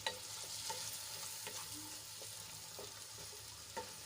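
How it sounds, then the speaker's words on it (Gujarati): Chopped tomatoes being stirred into frying onions in a pan: a continuous soft sizzle with repeated scraping strokes of a spoon, quiet and close, no voices. "એ એડ કરી દઈશું અને ડુંગળીમાં સરસ રીતે મિક્સ કરી લઈશું"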